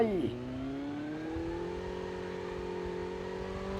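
A car driving in the video game Call of Duty Mobile, a steady engine hum that drops in pitch at the start and then holds an even drone.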